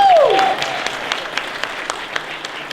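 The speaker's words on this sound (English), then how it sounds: "please give these guys a round of applause" Banquet guests at a softball awards dinner clap for the championship team, the applause starting after a brief voice and thinning into scattered claps as it fades.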